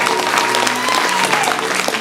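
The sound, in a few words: congregation applauding in church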